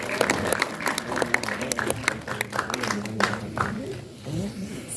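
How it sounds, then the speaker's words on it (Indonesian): Scattered clapping from a small crowd at a film press conference greeting actor Oka Antara, uneven and mid-distance, with people talking over it. "Tepuk tangan buat Oka."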